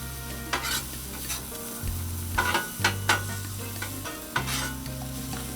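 Food sizzles and fries on a hot Blackstone 22-inch griddle as a spatula breaks it up and scrapes across the steel, sharp metallic taps and scrapes landing in an uneven rhythm over a constant close hiss.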